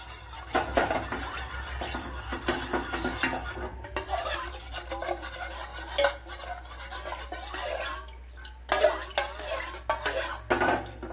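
A spoon stirs custard milk pudding mixture in a pan, steady scraping and clinking against the metal in a continuous rhythm, close and fairly loud, with a low background hum and no talk.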